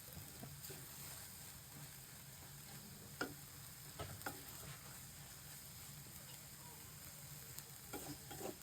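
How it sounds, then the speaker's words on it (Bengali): Chepa shutki, a fermented dried fish mashed into bharta, fries softly in a pan with a faint steady sizzle, broken by a few light scraping stirs and clicks. "এখন ভাজা ভাজা হোক"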